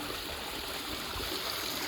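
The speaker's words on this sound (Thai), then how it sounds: "น้ำตกสวยงาม" A waterfall and stream at Ban Na Ang flow in a steady, continuous rush of water, unbroken for the whole stretch with no voices over it.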